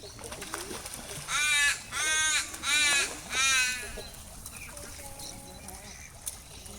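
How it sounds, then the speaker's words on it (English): A crow caws four times in a steady, evenly spaced series at a wildlife reserve during bird feeding. The calls are loud and close, with quieter background sounds and faint voices in between. "That's a crow."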